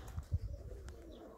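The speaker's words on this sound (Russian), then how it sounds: "голуби" Domestic pigeons kept by a fancier coo softly nearby, with a few low, throaty pulses early on and faint chirps, all fairly quiet against light background noise.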